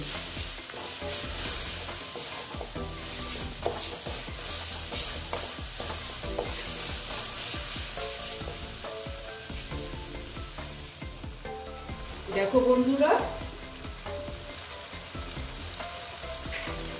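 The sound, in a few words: spice masala frying and being stirred in a pan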